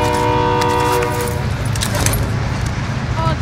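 In the game Warzone, a train horn blares as the train rumbles past with metallic clatter. The horn fades midway and a brief second tone comes near the end, over a steady low rumble.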